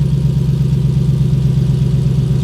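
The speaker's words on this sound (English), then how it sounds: "That's just with the 24-inch exhaust," A Jeep Wrangler with a Hemi V8 idles through a 24-inch Borla exhaust with no resonator, giving a deep, rhythmic, loping throb, close and loud, with no talking.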